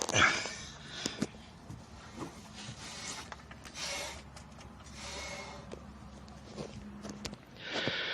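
A close, steady grinding rasp with irregular sharp clicks scattered through it, from a worn rear wheel hub bearing on a Nissan Sentra, no voices present.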